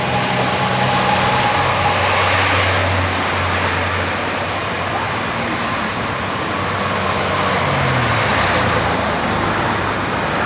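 A car drives along winding mountain roads in the Blue Ridge Mountains of Virginia, giving a steady, loud engine drone and road rumble that hold constant throughout, with no talking.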